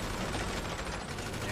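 Steady gunfire at a shooting range in GTA Online, a dense continuous roar of overlapping shots with no pauses, loud and close throughout.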